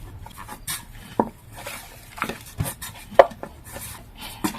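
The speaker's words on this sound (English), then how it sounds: "I'm going to go in with my hand and just knead the remaining flour at the bottom of my silver bowl to the dough" Croissant dough being kneaded by hand in a silver bowl, giving soft irregular slaps and dull thumps with occasional sharper knocks against the metal, close and fairly quiet.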